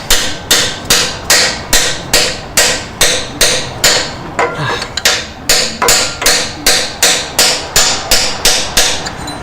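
Steady, evenly spaced hammer blows drive a bush onto the tail shaft of a Ford BTR four-speed automatic transmission, about twenty loud, sharp metallic strikes in a regular rhythm with a brief pause midway.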